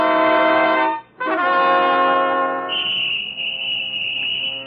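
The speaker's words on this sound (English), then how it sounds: "the police whistles are splitting the air" Shrill police whistles blow in a radio drama scene, a long steady high tone entering partway through over a loud sustained ringing, chord-like backdrop that briefly cuts out near the start.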